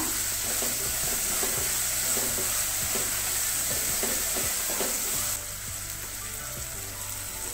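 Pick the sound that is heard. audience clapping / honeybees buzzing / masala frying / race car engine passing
masala frying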